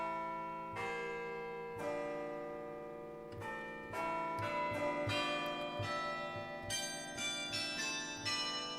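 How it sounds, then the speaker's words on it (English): A sampled bell tower from a Project Sam library rings out in a sequence of struck bells, each strike blooming into long overlapping resonant tones that build into a dense, sustained chiming wash. "they sampled a bell tower"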